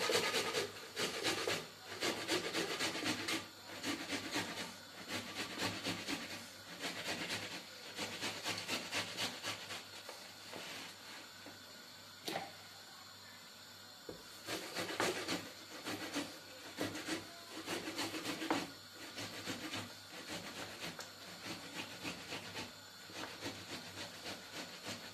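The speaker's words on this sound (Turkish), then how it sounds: "Önce domatesi rendeleyerek başlıyorum." Tomatoes grated on a kitchen grater for a tomato sauce pasta, giving a long run of steady, close rasping strokes with a few short pauses, heard alone with no talk.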